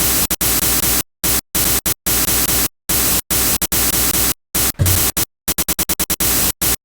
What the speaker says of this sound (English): The noise is kind of, I think, meant to replicate like a crash or like a cymbal